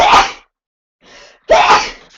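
Two sharp, close sneezes, the first a quick burst and the second a louder explosive one after a brief breathy pause.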